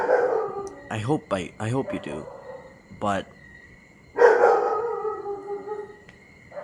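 A dog yips and howls in drawn-out, wavering cries close by, with a person talking over and between the calls.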